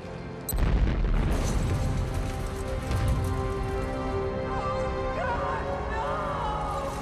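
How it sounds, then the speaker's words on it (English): A car explodes in a heavy boom early, followed by a sustained crackling, rumbling roar like fire and debris, with faint voices rising near the end, in a 2002 film. "After leaving the restaurant, Gant tries to kill Ecks by blowing up his car."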